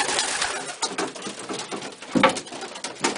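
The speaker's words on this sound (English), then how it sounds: "I know some people who would absolutely hate being here with all these pigeons." A flock of pigeons coos close by, soft throaty calls overlapping with wing flutters and light pattering, no voices.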